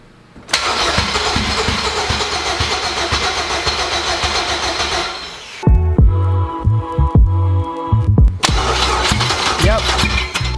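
A Honda K20 engine cranks loudly and steadily, then briefly catches with uneven throbbing bursts before cranking again, close up with a voice in the background.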